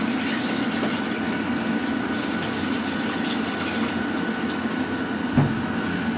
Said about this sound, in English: I'm going to run a bit of warm water